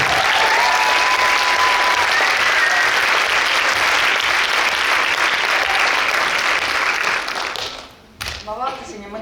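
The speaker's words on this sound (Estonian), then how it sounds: "Suur applaus!" Applause from the audience at a school dance festival awards evening fills the hall loudly and steadily, a dense wash of clapping that fades out near the end, with a few voices breaking through.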